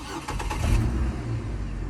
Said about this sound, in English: And your truck will crank and will run.